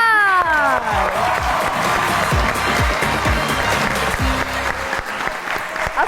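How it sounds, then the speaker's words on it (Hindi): A crowd claps loudly and continuously, sustained applause filling the space, with a few cheers and voices mixed in. "आप सबकी तालियों में तशरीफ लाते हैं"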